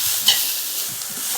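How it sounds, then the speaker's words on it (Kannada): Grated carrot is stirred and fried in ghee in a pan for carrot halwa, giving a steady close sizzle with soft scraping strokes of the spoon; no voices. "ಈ ಥರ ಹುರಿದು ಈ ಹಸಿ ವಾಸನೆ ಹೋಗೋವರೆಗೂ ಹುರಿದೆ ನೋಡಿರಿ"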